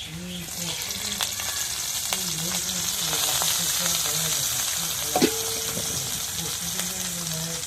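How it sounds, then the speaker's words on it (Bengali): Oil sizzles steadily in a home kitchen pan as chopped chili and crushed garlic fry, giving a constant hiss with faint stirring clicks. A brief clatter comes partway through, and a low hum runs underneath. "একটু তেল দিয়ে এখন মরিচ কাটা রসুন সাঁচা দিয়ে দিই"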